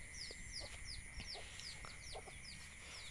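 Several desi chickens clucking in short, repeated bursts with a rooster among them, steady flock chatter nearby under a constant background hum.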